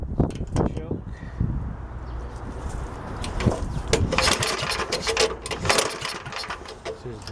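Yardman Snowbird snowblower engine cranked on choke, a rough mechanical clatter and rattling turnover that builds into uneven sputtering, close and loud, with someone talking over it.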